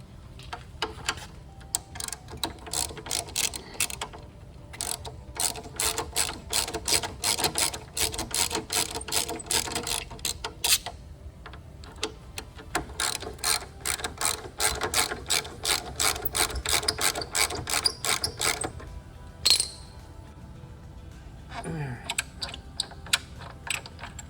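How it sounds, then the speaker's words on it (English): A ratchet with a 12mm socket works loose the brake caliper bolts on a Suzuki GSX-R600/750 motorcycle, giving rapid, close clicking runs in repeated bursts with brief pauses between them. "First thing we're gonna do is take these bolts out. That's what we need the 12mm for."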